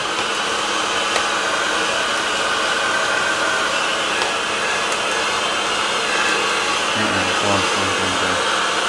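A heat gun blows with a loud, steady roaring hiss while heating vinyl wrap on the roof of a Mini Cooper S, running alone and continuously throughout.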